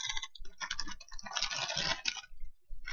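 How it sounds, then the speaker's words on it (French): Plastic packaging from a bag of nail care purchases rustles and crackles in irregular bursts, close and fairly loud, with brief pauses and no talking. "Désolée pour le bruit du plastique."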